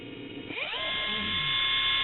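An AOBEN 21V cordless tool is clicked on, and its motor spins up over about half a second into a steady, loud, high-pitched whine of blowing air that holds to the end.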